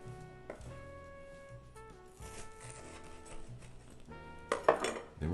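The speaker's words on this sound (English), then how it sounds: "We're going to cut this in half." A knife slices a buttered, toasted grilled cheese sandwich in half on a plate, with light clinks and scraping of cutlery and a crisp crunch near the end. Soft steady tones sit in the background.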